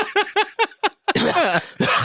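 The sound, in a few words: person imitating coughing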